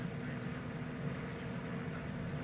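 A steady low engine drone with a soft wash of water noise, continuous and even throughout, like a small boat cruising on calm open water.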